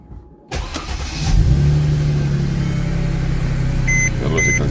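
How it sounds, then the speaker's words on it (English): A car's engine cranks and catches after a quiet moment, then settles into a loud, steady idle close by, with faint chimes sounding twice near the end. "let me start the car and see"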